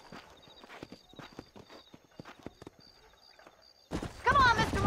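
Horse hooves clip-clop at a walk in the Western video game Red Dead Redemption, a quiet run of soft hoof knocks with faint game ambience, before a burst of louder sound near the end.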